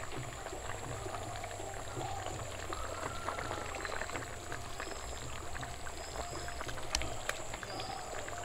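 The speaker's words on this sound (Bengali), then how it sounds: "রস করার জন্য জল দিয়ে দেবো" Water pours steadily into a pan of fish curry gravy for rohu fish curry, a continuous soft splashing flow over a faint background hiss.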